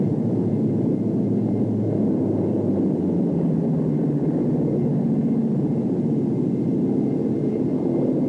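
An army helicopter flies steadily overhead, a continuous low, droning rumble of rotor and engine that holds at an even loudness throughout, with no voices.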